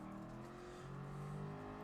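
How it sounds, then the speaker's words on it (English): Car engine held at a steady high rev without any gear changes in Gran Turismo Sport, a continuous loud droning whine with stacked harmonics that rises slightly in pitch across the whole stretch, no talk over it. "the guy just wants to blow the engine up, doesn't bother changing gear"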